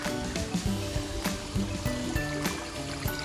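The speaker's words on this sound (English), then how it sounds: "Hear a stream." Running water of a forest stream on a hiking trail, a steady close rushing and trickling wash that fills the clip alone, without talk.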